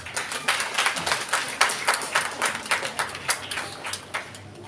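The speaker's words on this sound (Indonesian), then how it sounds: "ya tepuk tangan dulu." Students at a madrasah boarding school closing ceremony in Bima clap their hands, a scattered, uneven patter of many claps over about five seconds at moderate volume, with no talk over it.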